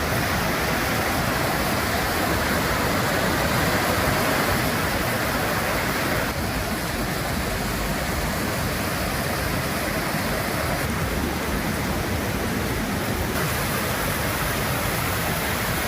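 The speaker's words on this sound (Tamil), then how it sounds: "திருப்பத்தூர் மாவட்டத்தில் பெய்த கனமழையால் ஜலகம்பாறை அருவியில் வெள்ளப்பெருக்கு ஏற்பட்டது." Jalagamparai waterfall in Tirupattur district in flood after heavy rain, a loud, steady broadband roar of rushing water that holds unbroken from start to end with no voices.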